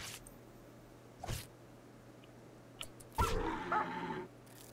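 A dog in the video game RimWorld gives a few scattered yips and short barks, faint at first, then a louder cluster of whimpering barks partway through, over a low steady hum.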